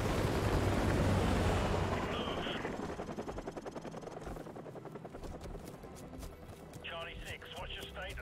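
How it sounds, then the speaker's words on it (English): Enemy helicopters in Call of Duty: Modern Warfare Remastered throb with a steady, rapid rotor chop that starts loud amid explosive game noise and fades slightly, with brief chirps of other game sounds near the end. "Enemy helicopters."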